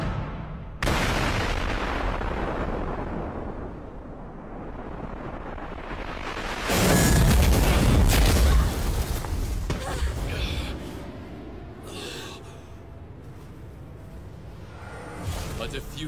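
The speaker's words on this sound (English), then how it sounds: "A diffusive magical explosion. It's caused when magic under maximum pressure mixes with the surrounding air." A diffusive magical explosion in an anime war battle on the Rhine front bursts loudly after a windy rumbling lead-in, a heavy booming swell mid-way that then trails off into lingering roar, with speech in the mix.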